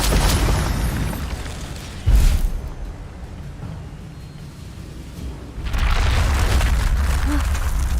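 An Incendio fire spell blasts in a Harry Potter video game with a loud booming burst, then a quieter rumbling stretch before another broad roaring surge of effects.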